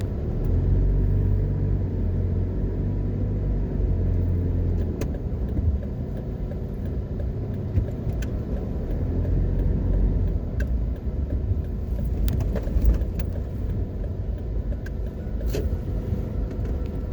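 A car drives through the largest shopping center in the Caribbean, in Jamaica near Howard Cooke Boulevard, with a steady, close engine rumble and road noise throughout, plus a few faint clicks and knocks.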